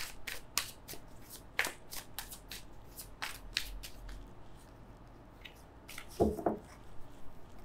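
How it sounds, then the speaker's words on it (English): A deck of cards shuffled by hand during a Capricorn tarot reading, with repeated soft riffling bursts and taps spread across several seconds, quiet and close, with no talking. "Do my shuffling again, okay."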